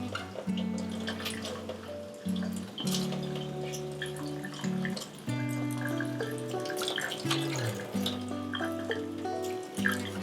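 Water running from a tap into a bear cub's pool, a steady splashing flow with shifting tonal resonance as the level changes, recorded close and alone.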